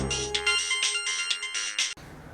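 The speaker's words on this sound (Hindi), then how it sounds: "किसी नावेद का फ़ोन है।" A mobile phone ringtone plays for an incoming call, a bright repeating electronic melody ringing loud and close for about two seconds before cutting off abruptly.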